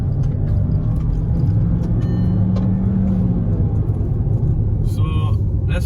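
Skoda Slavia 1.5 TSI driving over loose gravel with traction control switched off, a steady loud road rumble and engine drone throughout, with a voice speaking over it.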